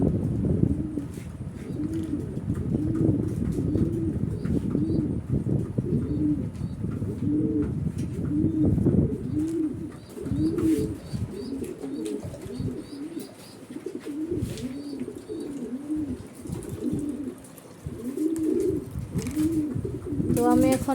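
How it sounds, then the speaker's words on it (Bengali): Several large pigeons of various breeds coo repeatedly at close range, a continuous low burbling chorus with overlapping calls and occasional faint chirps. "তো এগুলো বিভিন্ন জাতের কবুতর।"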